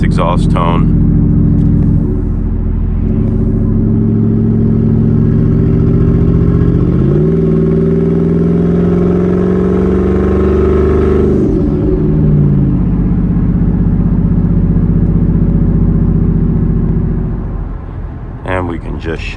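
A deep, loud exhaust on a 2021-or-newer Ford F-150 twin turbo with exhaust cutouts open, rumbling steadily at idle, its throaty drone shifting pitch slightly midway before quieting at the end.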